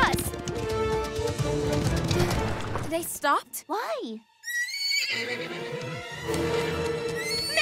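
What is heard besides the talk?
horse galloping and neighing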